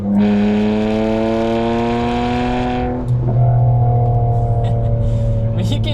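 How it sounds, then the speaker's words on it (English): A BMW coupe with an N52 engine revs hard in a loud, climbing wail, then drops at a shift and settles into a deep, steady drone, close and dominant throughout. "this car you can really just rev out, and it's pretty responsive, honestly."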